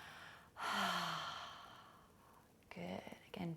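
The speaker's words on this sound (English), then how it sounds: "fill up all the way, open the mouth, exhale" A long, deep exhale flows out through an open mouth during a calm meditation, a soft breathy rush for about a second and a half, followed by shorter breaths and quiet murmured voice.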